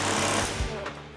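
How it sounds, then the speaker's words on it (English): A power tool hammering nuts off bolts on a worn-out 1972 Chevrolet C10 truck, one short, loud, rapid rattling burst up close that fades quickly. "Just busting some nuts off here"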